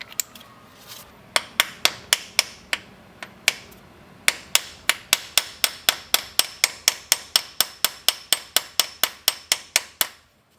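Hammer blows on a bushing during a Toyota Tacoma truck repair, struck outdoors: a loud, close series of sharp metallic strikes, a few spaced at first, then a long steady run of evenly timed hits.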